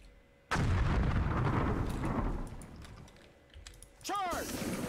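Game gunfire and artillery from the WWII strategy game Sudden Strike 3, American campaign in Europe: a heavy blast hits suddenly and rumbles on, then fades, followed by a whistling shell and another loud burst.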